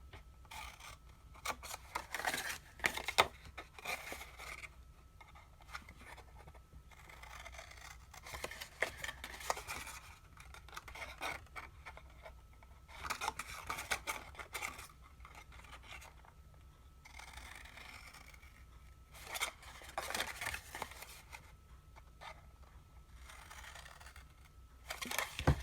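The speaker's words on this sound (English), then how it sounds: "And then we'll simply cut from there to the intersection of the score lines." Scissors snipping through scored paper for a small paper teapot craft, a run of short crisp cuts with brief pauses between strokes, close and fairly quiet with no talking.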